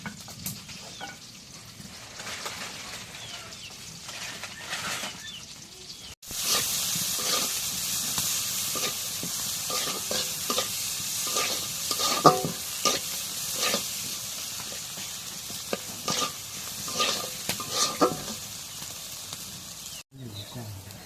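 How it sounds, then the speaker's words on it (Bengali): A hilsa fish head fries with potato and aubergine in hot oil, giving a steady sizzle with repeated stirring scrapes that grows louder partway through, while someone talks over it. "এখন রান্না হবে কি ইলিশ মাছের মাথা দিয়ে আলু বেগুন।"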